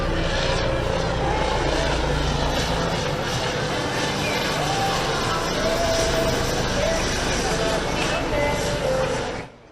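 Spanish police aircraft marked for the service's 200th anniversary flying at the Torre del Mar airshow in 2024, a steady loud engine drone holding throughout with a faint murmur of crowd voices.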